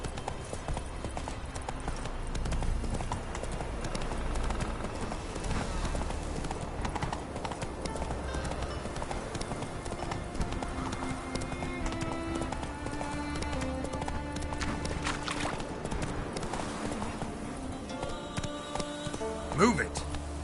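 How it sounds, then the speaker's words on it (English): Horse hooves clip-clop at a walk through the Witcher 3 video game, a steady rhythmic plodding that runs the whole time beneath busy in-game music and a voice urging the horse on. "Come on, Roach. Call that walking"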